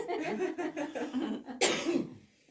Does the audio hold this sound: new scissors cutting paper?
no